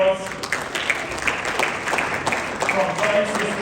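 A masterclass audience claps for a presenter, a steady wash of applause lasting a few seconds, with talking over it.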